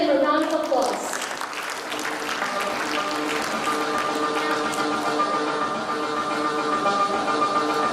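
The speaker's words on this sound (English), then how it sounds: "Can you all please give him a round of applause?" Audience applause welcoming the Information Management Department director of NAMRIA, a dense sustained clapping that follows a brief spoken introduction and continues evenly to the end.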